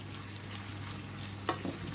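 Quiet, steady sizzling of kingfish frying in oil, with a faint clink of a utensil near the end.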